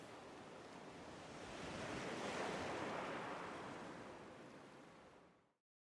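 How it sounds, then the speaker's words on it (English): Ocean waves in Elden Ring Nightreign wash in as a steady broadband surf that swells to a peak midway and then eases off before cutting out. No voices are heard over it. "Hark! The murmuring of waves."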